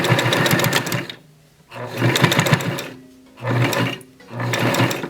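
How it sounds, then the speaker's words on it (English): A sewing machine runs a straight stitch down the center of a fabric headband seam, its fast steady whir coming in three or four separate bursts with short pauses between them, close and clear. "we're going to go to the sewing machine and we're going to sew right down the center here"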